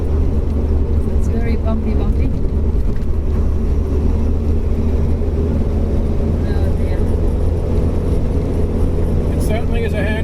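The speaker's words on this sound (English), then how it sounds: "Very loud in here. It's like a tractor." A 1963 Toyopet Stout's engine drones loudly inside the cabin in fourth gear while crossing the Darling Causeway, a steady tractor-like rumble that never lets up, with people talking over it throughout.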